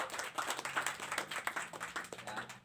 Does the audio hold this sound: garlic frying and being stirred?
no